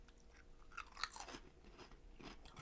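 Crunchy Japanese convenience store snacks are chewed close up, with several crisp bites and crunches over a few seconds and no talking.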